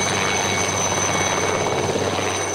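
A helicopter flies over a mountain festival with paragliders nearby, its rotor and engine drone steady, loud and close throughout, with no talk.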